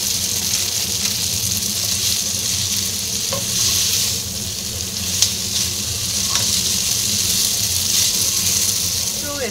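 Spaghetti tossed into a pan of bacon rendered over low heat for carbonara, a steady close sizzle with soft stirring and scraping throughout and faint clicks.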